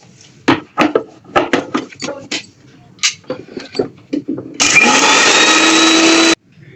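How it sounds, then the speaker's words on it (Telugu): Kitchen mixer grinder whirs loudly and steadily for about two seconds while grinding spice masala for chicken pickle, after a stretch of people talking and clattering. "ఇప్పుడు వచ్చేసి మనం మిక్సీ పట్టేసుకుందాం."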